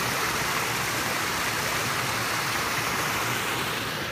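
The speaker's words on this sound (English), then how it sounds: "It's got a little raging waterfall here." A small, rushing waterfall on an outdoor bike trail gives a close, steady, dense roar of falling water that stays constant without a break.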